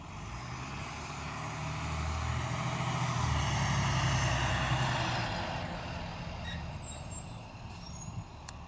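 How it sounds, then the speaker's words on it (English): A truck passes along a road during an autumn walk, its low engine rumble and tire roar swelling as it approaches, peaking midway, then fading off into the distance. "I think there's a truck coming, so let me stop talking for a little bit just in case it's too loud"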